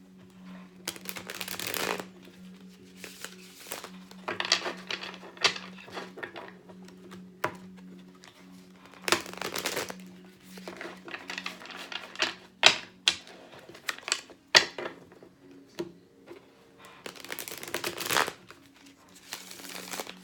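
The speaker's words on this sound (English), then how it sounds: "Do a quick shuffle for Saggies." Tarot cards shuffled by hand over a long stretch, rapid crisp riffles and slaps in uneven bursts, close and clear over a faint steady hum, with no talking.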